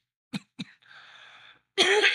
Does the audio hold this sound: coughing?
yes